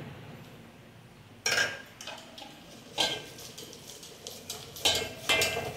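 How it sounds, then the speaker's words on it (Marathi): A metal pot clanks and scrapes against a sieve set over a kadhai as chana dal and jaggery puran is pressed through by hand, in sharp irregular bursts of metallic knocks against a quiet background. "आणि तांब्याने मम्मी मस्त एकदम पुरण वाटून घेते बघा।"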